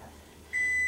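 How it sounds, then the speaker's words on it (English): Kitchen timer going off while potatoes bake, a single sustained high electronic beep starting halfway through and holding steady to the end, fairly loud over a quiet room. "our timer went off"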